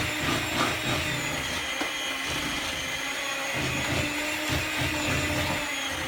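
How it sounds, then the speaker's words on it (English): Electric hand mixer whirring steadily as it blends a mixture in a bowl, a continuous close motor whine with slight fluctuations in load and no talk over it. "I do use a hand mixer."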